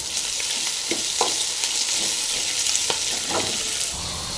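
Neem flowers sizzle in a pan with curry leaves, coriander and salt, a steady close frying hiss broken by regular scraping stirs, with no voices.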